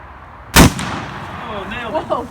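A single loud, sharp black powder revolver shot from a Remington Zouave or 1851 Navy Colt cracks out nearby, then rings off and fades, with excited voices following.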